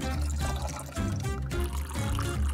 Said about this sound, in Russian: Растопите их и вылейте в стакан.